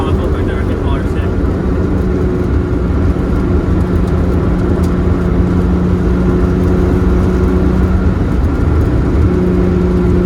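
Volkswagen VR6 engine accelerating hard on the Autobahn, a loud continuous droning roar with steady engine tones, heard from inside the car with voices talking over it.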